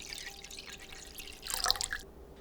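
Water drips from freshly rinsed mugwort set to drain, a few close, light droplets patter into the container, with a brighter splash of falling water near the middle before it quiets.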